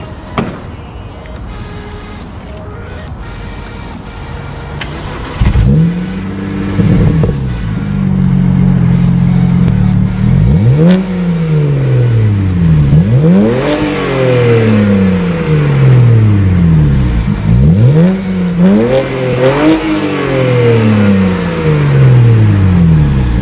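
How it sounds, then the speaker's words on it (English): A tuned BMW 335i's inline-six twin-turbo engine revs hard again and again, each rising whine climbing and falling in repeated bursts, loud and close with no talking. "How good does that inline 6 twin turbo engine sound?"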